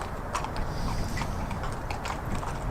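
A horse's hooves walking on firm ground during a barefoot hoof gait check, steady clip-clop footfalls in an even rhythm, moderately close.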